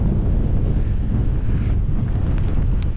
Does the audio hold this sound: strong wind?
yes